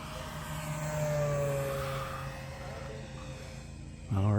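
An FMS P-47 radio-controlled model airplane makes a low pass at a fun-fly, its motor a steady whine sliding downward in pitch as it goes by, with a sharper rising tone at the end.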